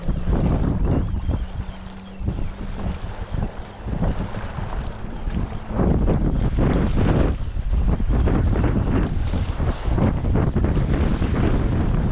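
Strong wind buffets the microphone aboard a small boat at sea on a fishing trip, a loud continuous roar with gusty surges and water wash throughout, no voices.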